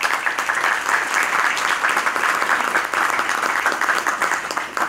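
An audience applauds Marco Antonio Ramos, president of the Miami chapter, at a formal literary address on José Martí's poetry, dense, even clapping from a sizable room that continues steadily throughout without pause.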